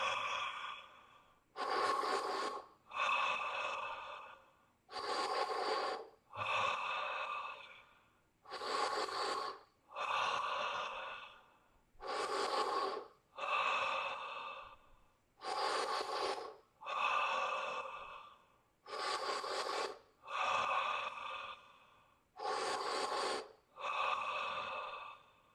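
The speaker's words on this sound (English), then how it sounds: "Breath of fire." Rapid breath of fire yogic breathing comes in about a dozen separate bursts of quick, forceful, rhythmic nasal exhales with short pauses between them, close and clear with no talking.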